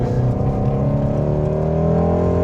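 Ford Shelby GT350R engine revving hard from inside the car, its flat-plane V8 note climbing steadily in pitch, loud and close.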